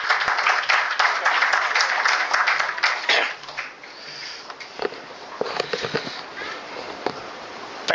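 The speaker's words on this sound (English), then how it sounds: "Ladies and gentlemen, please give a huge round of applause." An audience at a stock exchange listing ceremony for a photovoltaic company claps loudly at the start. The applause thins into scattered individual claps, then picks up again briefly.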